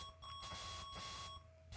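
Simple repeated electronic beep tones from NES 1942 game music, a steady held note with harmonics that returns after short gaps, heard alone with no talk.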